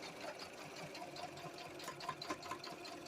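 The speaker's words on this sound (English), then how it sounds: "So I'm just gonna back stitch right there." A sewing machine back stitches fabric at the start of an angled seam, a steady close mechanical whir with faint rhythmic ticking and no talk.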